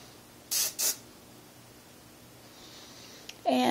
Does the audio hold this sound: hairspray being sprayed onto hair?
yes